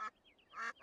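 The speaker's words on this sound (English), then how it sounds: "Oh no, ducks on the track." Cartoon ducks on a train track give two short, close quacks split by a brief whistling squeak, all within about a second.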